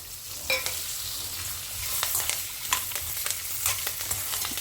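Curry leaves and green chillies sizzling and crackling in hot oil for a mango gojju, with sharp spitting pops scattered over a steady fry and occasional stirring.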